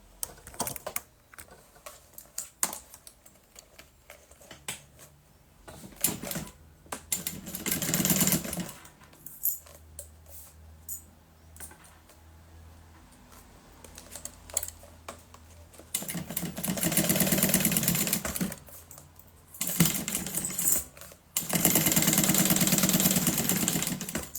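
A sewing machine runs a closing seam at stitch length 3.5 on a silicone pouch, its motor whirring in several separate bursts, the later runs longer and louder, with quiet handling pauses between them.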